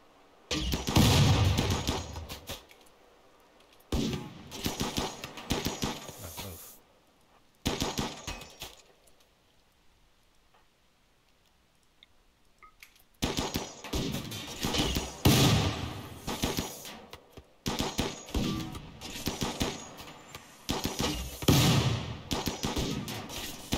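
Bursts of rapid gunfire and heavy thuds from a Vikings of Carpathia video game session, loud and clustered in several volleys with a quiet gap in the middle, no talk.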